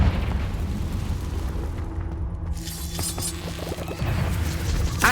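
A Confringo fire spell blasting in the Hogwarts Legacy video game, a loud crashing boom followed by rumbling, crackling debris and other game effects.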